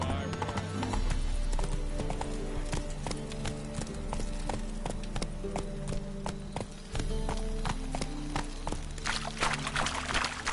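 Hooves of Roach, the horse in The Witcher, pound in a quick galloping rhythm throughout, with game ambience and occasional louder thuds layered over the running beat.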